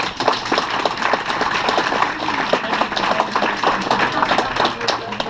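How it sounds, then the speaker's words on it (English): Audience at an evening racing club gathering clapping in a steady, fairly close round of applause, individual claps distinct through the whole stretch. "So round of applause to the DRAM executive."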